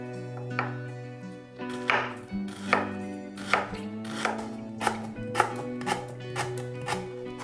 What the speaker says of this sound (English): Start by slicing half a lemongrass. Remove the little end and the first leaf,